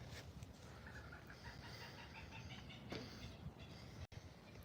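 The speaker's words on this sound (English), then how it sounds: "Got some nice birds out here." Birds call outside a house in Florida, a scatter of faint, chicken-like clucks and calls over a steady background hiss.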